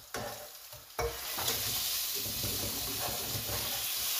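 Rui fish fries in a pan, a steady oil sizzle broken by a few sharp scraping stirs near the start, close up and with no talking.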